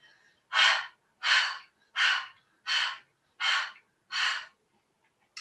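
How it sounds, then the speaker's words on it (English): Six steady, evenly spaced breaths exhaled through the nose or mouth during a slow, relaxing yoga practice, each a soft airy rush lasting about half a second, close and clear with quiet pauses between. "Maybe breathing out the nose or out the mouth."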